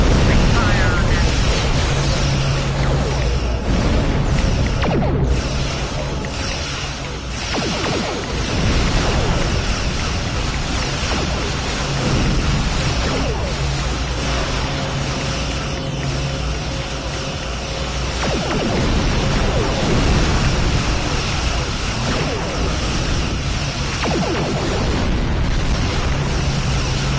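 Starship weapons fire and explosions in a Star Trek video game form a steady, loud, roaring wash of blasts and rumbling booms that carries on without a break.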